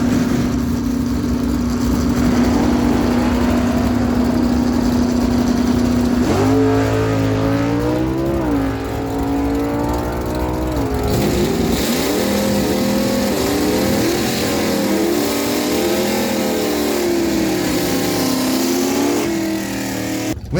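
A 1969 Plymouth Barracuda and a 1969 Chevy Corvette on a drag strip pass, loud engines idling, then revving and climbing through gears, with overlapping tones rising and falling as the cars accelerate away.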